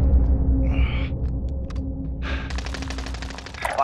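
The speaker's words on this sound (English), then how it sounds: "They're shooting at me!" Automatic gunfire in the Warzone video game comes in rapid bursts over a steady low rumble and electronic game noise, loud and continuous through the short clip.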